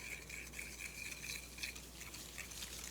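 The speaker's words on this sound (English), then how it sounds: "And we're just gonna whisk this together." Butter and sugar being whisked together in a bowl, heard as a soft, rapid, steady scraping and clinking of the whisk, faint and close, with no voices.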